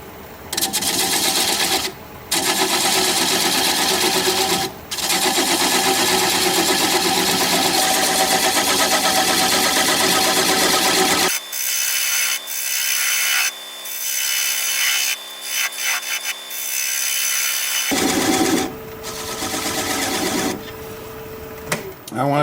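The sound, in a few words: wood lathe turning driftwood, bowl gouge removing tenon at 500 RPM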